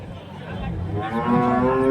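A large cow at the Santhipuram cattle market in Andhra Pradesh gives a loud, close moo that swells and holds steady toward the end, with faint market murmur behind it.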